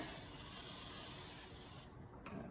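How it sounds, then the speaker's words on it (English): A kitchen oil spritzer sprays an air fryer rack: a steady spray hisses for about two seconds, close and fairly loud, then cuts off, followed by a short final burst. "I'm just spraying that with some oil"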